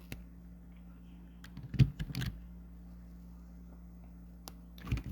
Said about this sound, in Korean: 이 부분 키보드에서 딜리트 하시면 지워지죠